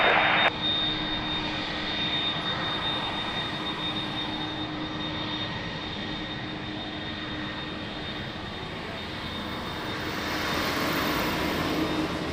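Jet airliner on approach to runway 02 at Lisbon Airport, a continuous loud engine rumble and whine that holds steady and swells slightly toward the end, with no voices.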